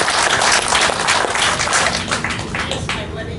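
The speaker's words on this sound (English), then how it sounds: "I was going to give another round of applause at the end. Let's do it again." Audience applause at a resort hotel's 102nd anniversary celebration: a dense burst of clapping from a crowd, loud at first and then gradually thinning out and fading over a few seconds.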